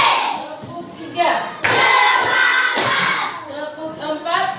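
A group of schoolchildren claps together on command in a classroom, sharp bursts of hand claps and thumps rising and falling over a few seconds, mixed with crowd noise and voices.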